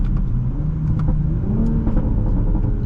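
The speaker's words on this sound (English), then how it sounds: "that transmission sounds amazing, and the downshifting is so satisfying" A 2020 Toyota Supra 3.0 with a ZF8 automatic revs and downshifts from inside the cabin, a steady low engine drone with brief blips, moderately loud and without talk.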